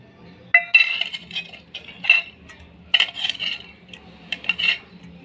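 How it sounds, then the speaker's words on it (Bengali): A spoon clinks and scrapes in a dish as ginger-garlic paste is mixed into mutton, giving a handful of bright metallic taps and stirring bursts at close range. "এবার মাংসটায় মশলা মাখিয়ে নেব। এই যে আদা রসুনটা দিচ্ছি,"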